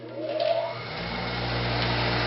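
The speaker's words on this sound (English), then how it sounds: "I'm going to take my tungsten and I'm going to sharpen it on the side of the wheel" A grinding wheel spins with a steady whirring motor hum as a tungsten welding electrode is sharpened against its side, the tone rising and settling into a continuous whine.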